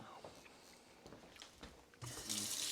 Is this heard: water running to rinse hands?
yes